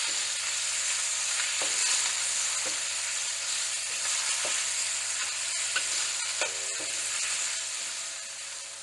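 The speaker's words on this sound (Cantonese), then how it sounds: "炒熟肉碎。" Minced pork being stir-fried in a wok with garlic and ginger, a steady close sizzle with scattered scraping stirs of the spatula, no voices.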